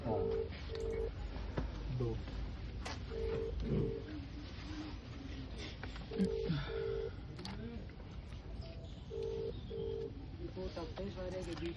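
A series of short telephone keypad tones beeps in small clusters over a quiet, noisy background, with faint other sounds scattered between.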